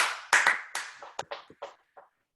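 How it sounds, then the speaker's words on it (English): A person claps hands as a greeting, several sharp claps in an uneven rhythm, close and clear, then tapering off quieter, with no talking. "Clap hello."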